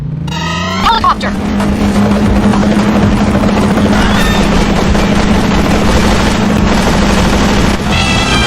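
A helicopter's steady rotor drone dominates in the video game 007 Agent Under Fire, loud and close, with engine roar and scattered shots mixed in.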